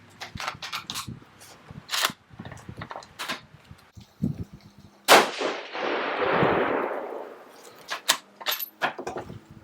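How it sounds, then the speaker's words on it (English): A single loud rifle shot from a Savage 110 Switchback chambered in 6 ARC cracks out partway through, followed by a long rolling decay, with scattered clicks and handling clatter before and after. "We're going to go ahead and shoot another one."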